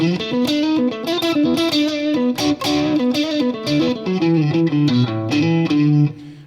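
An electric guitar plays through a Tumnus overdrive pedal, overdriven chords and single notes with a gritty, distorted tone, loud and continuous.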